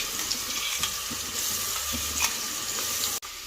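Ginger garlic paste frying in a pan with a steady close sizzle throughout, with occasional scraping stirs, for a mutton biryani.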